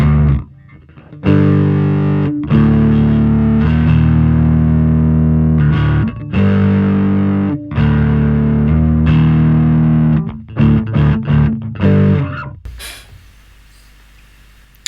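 Electric bass played through Fender Santa Ana Overdrive and Pugilist Distortion pedals, loud and upfront, with gritty sustained distorted notes in choppy phrases and brief gaps, ending on a short burst of noise after about twelve seconds.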